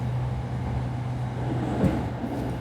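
A brand-new MRT train on a new line in Thailand, heard from inside the car as a steady low rumble and hum of the moving train, continuous and moderately loud with a brief bump near the end.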